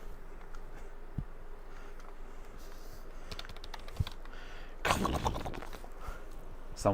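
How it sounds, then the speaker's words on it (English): Typing on a computer keyboard with a USB adapter, a run of steady clicks and key taps, close and fairly quiet, with a denser burst of keystrokes partway through. "Someone's going to extract my Wi-Fi password from the sound of the keyboard."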